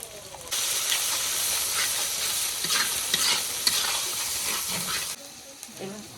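Ginger and garlic paste sizzles and hisses loudly in hot oil as it is stirred, with a steady, close frying sound lasting several seconds and soft scraping throughout before it cuts off.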